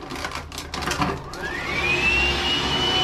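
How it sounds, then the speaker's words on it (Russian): A hair dryer in a hotel bathroom switches on after some handling noises, settling into a steady, close whooshing whine with a rising tone. "фен."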